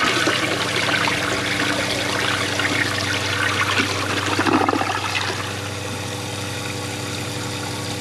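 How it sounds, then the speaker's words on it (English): A 2003 Crane Galaxy Elite front-lever toilet flushes in one steady, loud rush of water that holds for about five seconds, then drops to a quieter, continuing refill hiss, close to the listener with no talking. "let's give it a flush"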